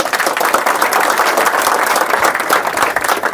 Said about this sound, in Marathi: योगेशसाठी खूप जोरदार टाळ्या झाल्या पाहिजे